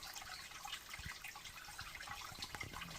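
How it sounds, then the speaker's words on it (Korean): Small mountain stream on rural farmland trickling softly and steadily, a faint continuous babble of water with occasional light splashes, no voices. "여기 물소리가 졸졸 들리는데요"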